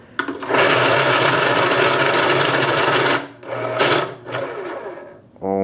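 An electric pencil sharpener's motor grinds loudly into an Apple Pencil in a long steady burst, then stops, followed by two shorter grinding bursts with brief pauses between.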